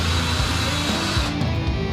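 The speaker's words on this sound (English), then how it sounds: "Pre-drill holes, because that piece so small, you put a screw right through it." A power drill whirs steadily, boring pilot holes into wood for screws during a spray paint booth build, close up and loud throughout with no talking.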